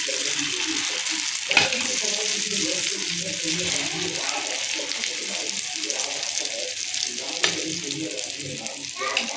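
Food frying on a hot tawa for a Bengali lunch, likely an omelette: a steady close crackling sizzle throughout, with a couple of sharp utensil taps and soft talking underneath.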